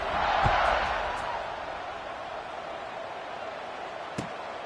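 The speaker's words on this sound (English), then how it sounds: "this crowd is buzzing after that last score" A football stadium crowd in the fourth quarter of an NCAA game, buzzing after a score, rises to a loud broad roar then settles into a steady distant murmur, with a sharp thud near the end.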